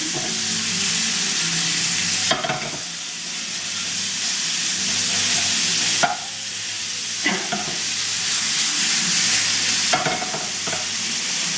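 Minced meat sizzles continuously in a frying pan that sticks, with periodic clanks and scrapes as the pan is shaken and the mince stirred, roughly every few seconds.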